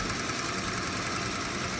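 A 1978 Daimler Sovereign 4.2 Coupe XJ engine idles under an open bonnet, a steady close mechanical hum with an even ticking pulse and no speech.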